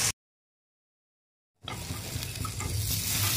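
Broth goes into a pan of oil-fried spice paste for a Bengali fish and kohlrabi curry, first a brief burst, then silence, then a loud rushing sizzle that keeps bubbling and hissing up close.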